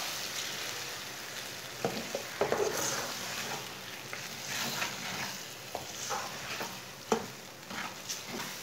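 Eggs stirred into pumpkin curry frying in a pan, giving a steady soft sizzle with scattered scrapes and clinks of a spoon against the pan.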